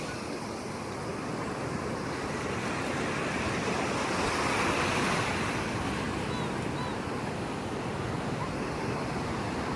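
Calm sea surf washing onto the shore after a typhoon, a steady broad rush of waves with some wind buffeting the microphone, no talk.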